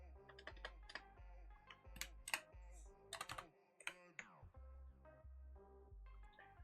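Rapid clattering keystrokes on a computer keyboard during a day-trading session, irregular bursts of clicks and taps close up, with brief pauses between flurries and no voice.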